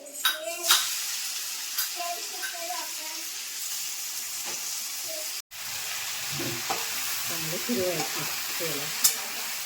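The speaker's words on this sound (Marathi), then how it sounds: "थोडी जिरं टाकून घेतलेलं आहे आणि याच्यात मोहरी टाकलेली आहे आणि फोडलीमध्ये आता ही भाजी टाकायची आहे" Jackfruit vegetable is tipped into hot oil tempered with cumin and mustard seeds, bursting into a loud sizzle with stirring scrapes and clinks; someone talks over the frying, and the sizzle resumes after a brief cut.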